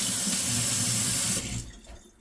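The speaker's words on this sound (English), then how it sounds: "I'm going to rinse my hands off" Water runs from a kitchen sink tap while hands are rinsed beneath it, a close steady splashing hiss that stops abruptly partway through and leaves a faint trickle.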